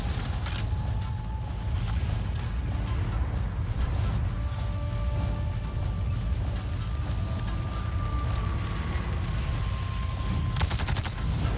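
Gunfire in the Avatar: Frontiers of Pandora video game, a dense rumbling stream of distant shots over a heavy low ambience, with a sharper cluster of reports near the end.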